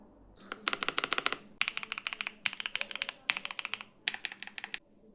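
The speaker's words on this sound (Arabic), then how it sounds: "الكيبورد تاعنا يجينا فلامينغو سويتشز، وعندنا نسخة لينير سويتشز." Close, steady typing on an Epomaker Cypher96 full-size 96% mechanical keyboard with Flamingo switches, four bursts of rapid crisp keystrokes separated by brief pauses, alone with no talk.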